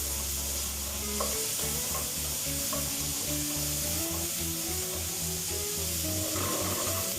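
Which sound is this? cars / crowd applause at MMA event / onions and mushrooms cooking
onions and mushrooms cooking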